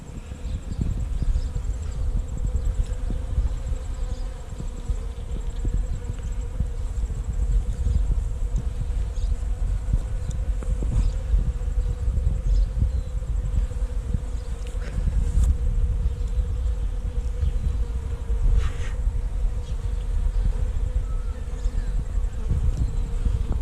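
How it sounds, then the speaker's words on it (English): Dense, steady buzzing of many bees swarming close by as they feed on leftover honey, a continuous droning hum with individual insects zipping past, no voices. "didn't take long for the bees to find it"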